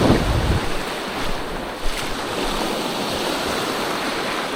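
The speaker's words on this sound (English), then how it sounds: "That tide is rushing in." Surf rushes up the beach on an incoming tide, a steady broadband wash of breaking waves with heavy wind buffeting the microphone, loud and constant throughout.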